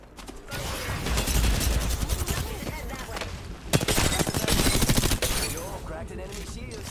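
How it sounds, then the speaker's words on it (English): Rapid bursts of enemy gunfire in a fast Apex Legends firefight, loud and dense with a heavy impact near the middle, continuing almost without pause and mixed with game effects. "They're shooting at me."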